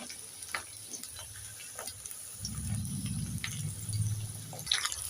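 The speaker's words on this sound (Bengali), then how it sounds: "দিয়ে দেবো কেটে রাখা কেটে এবার নিয়ে চেড়ে আবারও এক মিনিট ভেজে নেব" Potatoes and carrots frying in oil in a pan, a soft steady sizzle that swells into a louder, fuller frying hiss partway through, with a few light stirring taps.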